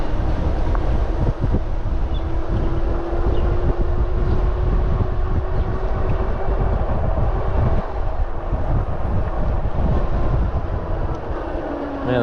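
Bafang geared hub motor e-bike with a welded clutch regenerating while ridden: a faint steady motor whine runs under heavy wind buffeting and road rumble, with scattered clicks and rattles, continuous and close.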